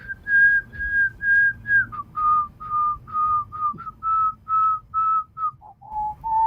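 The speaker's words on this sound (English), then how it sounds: "Whistling a Mozart symphony." A melody from a Mozart symphony is whistled by an AI in clear, pure tones. The phrases are short and evenly paced, with the notes stepping downward in pitch, and the whistling is close and alone with no talk.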